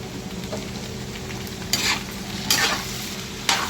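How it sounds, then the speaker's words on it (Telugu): Okra fry being stirred in a pan with chili powder and salt: a low background sizzle with a few scraping stirs of the spoon, close and moderately loud, without talk. "టీ స్పూన్ చాలు కారం, సాల్ట్, బాగా తిప్పుకోవాలి."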